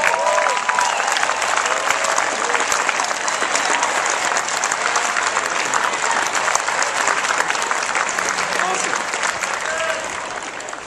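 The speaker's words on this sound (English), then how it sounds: "Let's give them some applause." A graduation audience at the 2011 UVa Department of Economics ceremony applauds the parents standing among them: dense, sustained clapping from a large crowd fills the hall at an even loudness, easing off slightly at the end.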